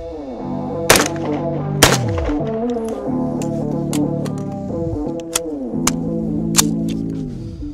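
Gunshots fired with a Mimtac trigger ring out as loud, sharp cracks, two early shots followed by a faster series of rapid shots, each leaving a long, ringing echo.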